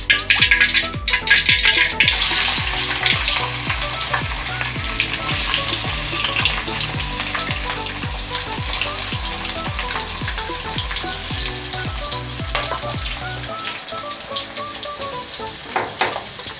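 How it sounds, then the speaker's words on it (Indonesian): Anchovies frying in oil in a pan for a stir-fried anchovy and green chili dish, a steady close, dense sizzle with repeated stirring and scraping strokes, no talk. "Nah, kita goreng dulu ya."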